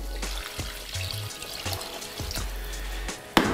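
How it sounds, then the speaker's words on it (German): Water poured into a Thermomix while making chestnut soup, a soft continuous splashing stream with a few small knocks, ending in a sharper clatter. "Deswegen haben wir jetzt noch 900 Milliliter Wasser hinzuzugeben."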